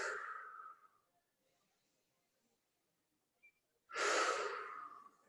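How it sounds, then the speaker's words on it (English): Two deep breaths during a yoga stretch, one trailing off at the start and a strong close exhale near the end, separated by quiet stillness. "Taking some big deep breaths."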